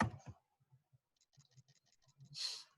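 Keyboard keys tapped while typing a web address into a new browser tab, a quick sequence of light, close clicks ending in a single firmer press, with no talking.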